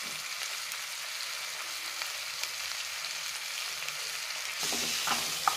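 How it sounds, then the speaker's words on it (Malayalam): Mango pieces sauté in coconut oil with chili powder and salt, giving a steady, close frying sizzle with light stirring scrapes throughout, louder toward the end. "മാങ്ങ ഈ വെളിച്ചെണ്ണയിട്ട് ഒന്ന് വഴറ്റണം."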